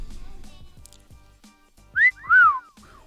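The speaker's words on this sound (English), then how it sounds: "I don't know why it keeps whistling. Apparently it's a sound effect that I forgot to turn off." A couple of bright, sliding whistle tones from a software sound effect, the second longer and louder, follow a stretch of quiet low rumbling and clicks.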